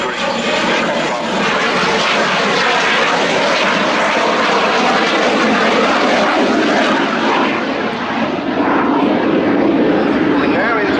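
Aircraft flying a 360-degree turn at the Royal International Air Tattoo 2017 air show, a loud, continuous engine roar that holds steady throughout, with a voice talking beneath it.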